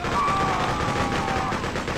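Heavy machine gun fire in the video game Freedom Fighters, a continuous loud burst of rapid shots lasting about two seconds.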